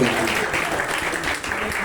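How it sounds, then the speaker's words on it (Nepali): Steady clapping from a crowd fills the moment, dense and sustained, with a murmur of voices mixed in. "एकपल्ट जोरदार ताली दिनुहोस्।"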